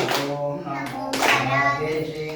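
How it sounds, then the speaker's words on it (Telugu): Hands clapping together amid voices during a puja chant for Avadhuta Sri Paradesappa on Mukkoti Ekadasi in Tamil Nadu, irregular claps mixed with singing and talk. "చప్పట్లు కొట్టుట"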